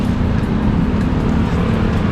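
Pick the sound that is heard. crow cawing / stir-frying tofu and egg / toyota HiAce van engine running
toyota HiAce van engine running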